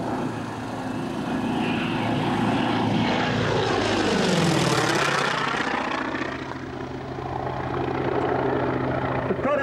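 A North American T-28 with a 1400 hp radial engine makes a loud flyby at an airshow, its propeller drone swelling as it closes, peaking near the middle, then fading while the pitch falls away.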